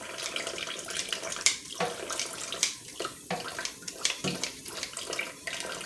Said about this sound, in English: You're just going to flush it out with water.